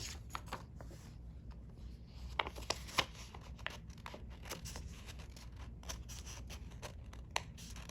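Scissors cut through paper in short, irregular snips and crunchy rustles while a journal page is being set up. The sound is close but quiet, and no one speaks.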